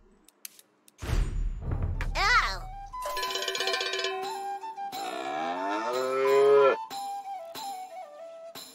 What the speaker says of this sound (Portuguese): Use um sino de vaca para encontrar e derrotar a vaca.